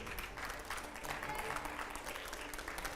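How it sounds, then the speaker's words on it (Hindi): Studio audience applauding at a televised political interview session in Delhi, a steady dense clatter of clapping at moderate level throughout, with some crowd noise underneath. "अगले सवाल के लिए जोरदार तालियां हो।"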